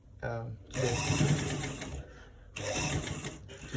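A sewing machine stitching a V-neck neckline runs in two loud, steady bursts of rapid mechanical whirring, with a short pause between them.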